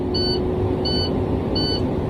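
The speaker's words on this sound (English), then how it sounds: "my red light is on and I can hear the alarm" A truck cab's low air pressure warning alarm sounds during a CDL brake test: three evenly spaced high beeps, each about a quarter second long, over a loud steady idling engine.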